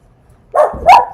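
A dog in a residential neighborhood barks twice in quick succession, close and loud, after a moment of near silence.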